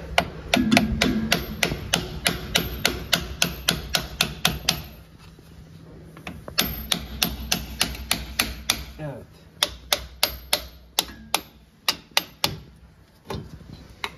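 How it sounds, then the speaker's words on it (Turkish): Sharp metallic hammer strikes on a circlip ring out in a rapid series during a Volkswagen Polo 6N outer axle and boot replacement, close and loud, with a brief lull midway before the blows resume. "tam şuraya çekiçle vuralım bakalım ne olacak"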